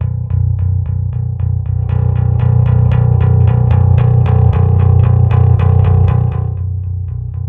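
A clean bass guitar plays a steady, even run of plucked notes through a Sonic Farm Tantra bass amp with overdrive off, deep warm low end and no distortion, continuous throughout.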